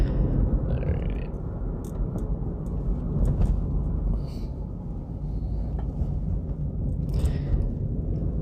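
A Renault Clio's engine runs as a steady, low broadband rumble throughout, fairly close and continuous, with faint brief noises on top and no speech.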